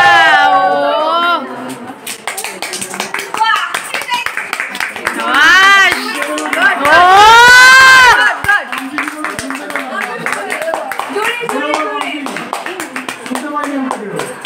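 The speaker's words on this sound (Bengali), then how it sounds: "হাততালি দে একটা" Hands clap repeatedly at a wedding reception, a scattered run of sharp claps spread through the whole stretch while adults and children talk and call out loudly over them.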